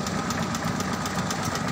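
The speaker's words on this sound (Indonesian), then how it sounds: "mesin hidup" A modified Toyota FJ40 pickup engine idles steadily and close by, a continuous low rumble with a faint knocking pulse and no talk over it.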